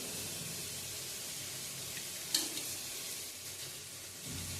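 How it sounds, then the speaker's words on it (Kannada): Tomatoes fry in oil in a pan for a poha dish, a faint steady hiss of sizzling with one soft stirring clink midway, no talk. "ಟಮಾಟೆ ಹಣ್ಣು ಹಾಕಿ ಇದನ್ನು ಸ್ವಲ್ಪ ಚಂದ ಎಣ್ಣೆಗ ಇದು ಮಾಡ್ಬೇಕು ನೋಡ್ರಿ"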